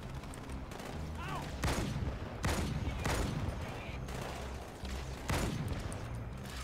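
Repeated bursts of gunfire in a Halo 2 Anniversary firefight, several loud volleys a second or so apart over constant game background noise.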